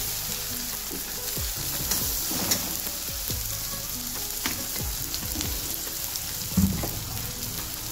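Cooked tomato with turmeric sizzles steadily in a pan while a spoon stirs it, scraping and tapping the metal now and then, close and continuous.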